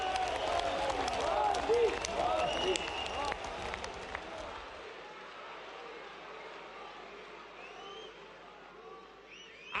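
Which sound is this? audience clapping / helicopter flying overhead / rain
audience clapping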